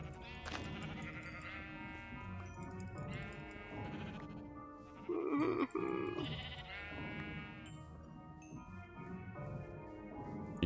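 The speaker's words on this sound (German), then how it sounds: "Okay, so, warte, ich hab gleich genug Schafe." Sheep in Minecraft (Tekkit Lite) bleat repeatedly: a series of loud, wavering, nasal bleats that follow one another closely against a steady background.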